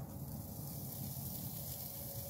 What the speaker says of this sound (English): throw these chops on there, and it's gonna hear that little sizzle